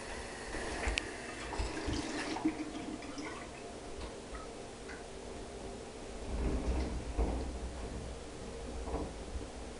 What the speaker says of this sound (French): Après, je me lave le corps.